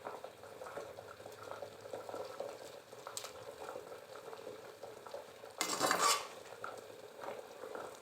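Saag, leafy greens, simmers in a pot with soft bubbling and light stirring, quiet and close, broken by one brief louder burst of clatter midway.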